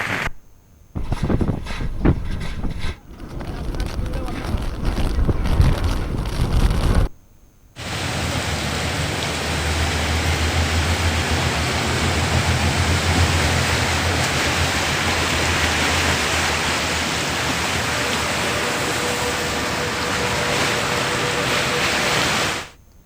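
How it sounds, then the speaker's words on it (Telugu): Cyclone Phethai lashing the Kakinada coast of Andhra Pradesh with gusts near 80 km/h and a rough sea: a loud, steady roar of wind and surf that continues unbroken after a short burst of other noisy sound and an abrupt cut. "ఎనభై కిలోమీటర్ల వేగంతో ఈదురు గాలులు బీభత్సం సృష్టించాయి కాకినాడ తీరంలో సముద్రం అల్లకల్లోలంగా మారింది"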